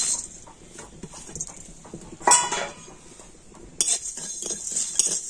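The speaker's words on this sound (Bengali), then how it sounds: "এই সবকিছু এখন আমি শুকনো কড়াতে দিয়ে দিচ্ছি।" Whole fennel, cumin and coriander seeds, dried chillies and black peppercorns go into a dry wok with a few light clinks and rattling scrapes, including two brighter clattering moments, all close by.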